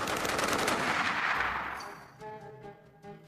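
Browning Automatic Rifle fires a rapid, booming burst of gunshots, loud and close, then the reports die away into a fading echo with faint tonal residue.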